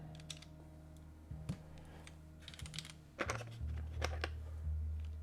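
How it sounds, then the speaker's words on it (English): Keycaps being pressed onto switches of a Frog TKL mechanical keyboard during a build: a scattered run of sharp, close clicks and snaps at an uneven rhythm over a faint low hum, with no talk. "I am continuing to put keycaps on row 4 as well"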